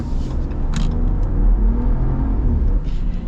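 A 2025 Ram 1500 Limited truck engine accelerates hard toward redline, giving a loud, steady, rising roar and deep rumble that holds for several seconds with no voices.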